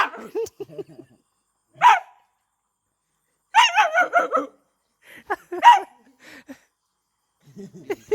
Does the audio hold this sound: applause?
no